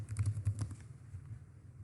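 Fingers typing briefly on a computer keyboard, a quick burst of soft clicky keystrokes up close, then tapering off into quiet room tone.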